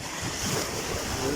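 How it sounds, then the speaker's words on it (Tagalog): Large ocean waves crash and roar continuously at high tide, a broad, steady wash of surf mixed with gusting wind noise against the microphone. "Ang alon no, lumakas oh. Oh. Oh, laki ng alon oh."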